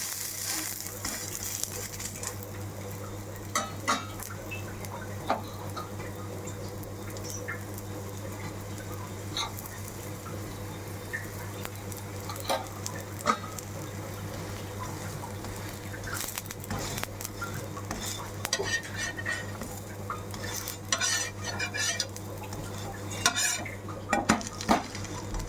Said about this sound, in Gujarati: આ રીતે જોઈ શકીએ છીએ આપણો પુલ્લો સરસ શેકાઈ ગયો છે.